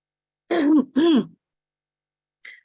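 Two quick, harsh coughs in succession, close and loud, followed by a faint short breath or throat sound a moment later.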